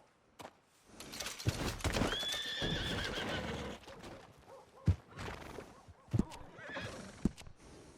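A horse in Red Dead Redemption 2 lets out a loud whinny, followed by a few heavy hoof thuds and clip-clops scattered over the following seconds.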